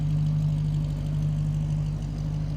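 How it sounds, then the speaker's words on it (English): A 1951 Buick Super's 263 cubic inch Fireball inline 8-cylinder engine idles close by, smooth and steady, with an even low hum and no change in pace. "Take a listen to that 263 cubic inch. Fireball inline 8-cylinder."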